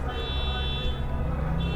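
Parked cars' alarms beep and toot steadily during fireworks on Independence Day night, a layered electronic tone over low rumbling background noise.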